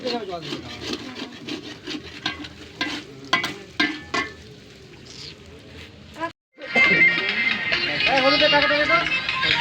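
Potatoes are stirred and fried in a pan for a night-time feast, with repeated scraping strokes of a spatula over a constant sizzle and a brief pause before the frying swells louder.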